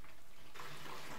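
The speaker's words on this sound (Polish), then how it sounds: "Wyjmij zbiornik na wodę i opróżnij." Water splashes out as the tank of a Drinkwell Platinum pet drinking fountain is emptied, starting quiet and becoming a steady, close pouring rush midway through the short moment.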